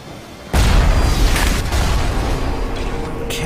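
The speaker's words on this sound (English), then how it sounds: "if you're wondering what's firing, it's that turret over there" A turret fires in the video game Bioshock, a sudden loud booming blast that sets off a sustained, rumbling barrage of gunfire.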